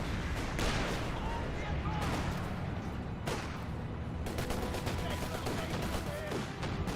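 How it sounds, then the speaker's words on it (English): Mortar impacts and gunfire from Company of Heroes 2 form a dense, continuous battle roar with several sharper blasts standing out, under a voice talking over the action. "That also took a nice mortar hit there."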